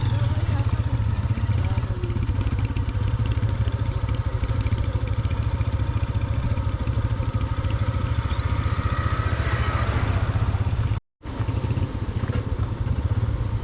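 A motorcycle labours down a rocky mountain road near Badgoi Pass in Kohistan, its engine droning loud and continuous with rattling clatter from the rough surface and a brief dropout near the end.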